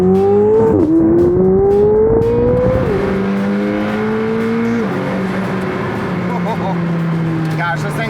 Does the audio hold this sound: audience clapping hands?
no